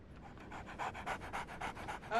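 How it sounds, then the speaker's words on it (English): Dog panting in the video game Sherlock Holmes: The Awakened, a quick rhythmic run of breathy huffs growing louder partway through and continuing steadily, close and clear with no talk over it. "So, Barnes has a dog now."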